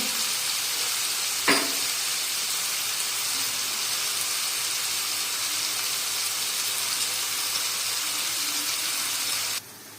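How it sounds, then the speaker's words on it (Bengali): Three kinds of chopped bell peppers and other vegetables stir-fry in a pan for chicken chow mein, giving a steady sizzle with a single sharp utensil clank near the start. "তিন রকমের যে বেল পেপারগুলো কুচিয়ে রেখেছিলাম সেগুলোও একেবারে দিয়ে দিয়েছি, দিয়ে তার সাথে একসাথেই নাড়ছি"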